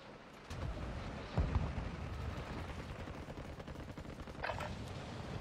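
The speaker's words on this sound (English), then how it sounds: "I really like hearing gunfire and being on the loading screen still." Faint bursts of video game gunfire crackle in the distance over a steady background rumble, with a couple of louder pops.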